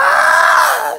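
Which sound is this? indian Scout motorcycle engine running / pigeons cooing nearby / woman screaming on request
woman screaming on request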